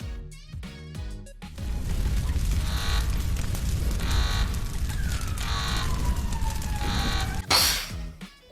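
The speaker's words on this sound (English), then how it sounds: "That was the explosion afterwards." A loud, sustained rumbling roar with wailing alarm-like tones over it, ending in a sharp, bright blast before fading.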